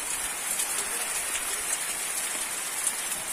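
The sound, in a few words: rain falling in the sertão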